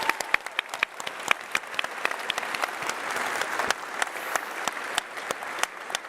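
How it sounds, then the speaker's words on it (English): Sustained applause fills a large hall at the Labour Party Conference, dense overlapping clapping from a big audience with sharper individual claps standing out, steady and unbroken throughout. "Give yourselves a massive round of applause to the Labour movement."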